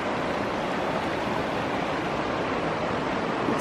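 Creek water rushing steadily over rocks at the Bear Creek crossing on a wilderness trail, a constant broadband wash with no talking.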